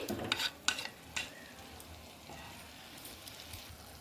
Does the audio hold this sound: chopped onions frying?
yes